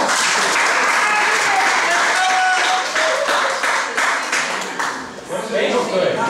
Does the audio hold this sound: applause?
yes